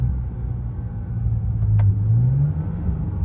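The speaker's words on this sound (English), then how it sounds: "you can hear the burbles in the back" Steady low engine rumble from a BMW E90 with a rising drone, broken by a single sharp exhaust pop near the middle; no talking.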